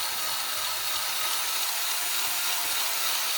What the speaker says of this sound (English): You hear it start to bind up a little bit, you're putting too much pressure on it.